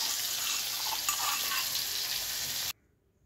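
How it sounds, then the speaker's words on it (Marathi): Dill masala paste sizzles in a little oil in a wok, a loud, steady, hissing fry heard close up that cuts off abruptly near the end. "कढईमध्ये 2 चमचे तेल टाकून त्यामध्ये आता जे वाटण तयार करून घेतलं आहे ते पहिलं परतून घेणार आहोत आपण।"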